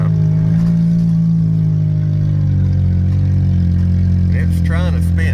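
A 1967 Chevelle engine revving hard as its wheels try to spin on a wet, snowy hill, a loud deep sustained roar close by with a voice speaking over it near the end.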